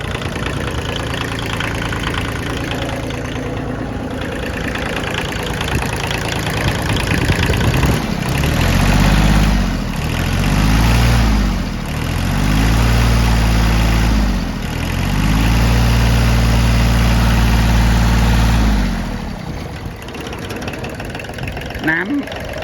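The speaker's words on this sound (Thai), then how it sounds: "สตาร์ทครับ เครื่องติดง่ายมาก" Kubota L2201DT 4WD tractor diesel engine cranks and catches, then settles into a steady, loud, close idle with rhythmic surging pulses; a voice speaks briefly near the start.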